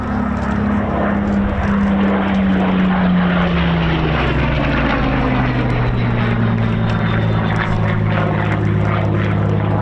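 Supermarine Spitfire P7350 performing a flying display at RAF Cosford air show, its propeller engine droning loudly and continuously overhead with a steady hum that slowly drops in pitch as it passes.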